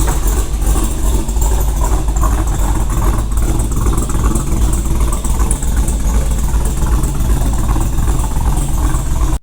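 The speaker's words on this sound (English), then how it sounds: "everything sounded and looked beautiful right on first startup" A rebuilt Dodge Challenger SRT Hellcat engine idles loudly and close by, with a deep, steady rumble and a continuous mechanical whine above it, no voices present.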